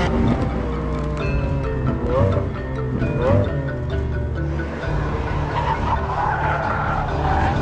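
A Lamborghini sports car driving hard with repeated tire squeals and skidding over a loud, continuous engine roar, close and sustained throughout.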